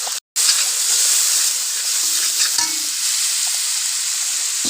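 Meat sizzles loudly and steadily as it is sautéed in a spiced masala of salt, sugar and chilli powder for biryani. A light hiss of steam rises over the frying, and there is a very short break near the start.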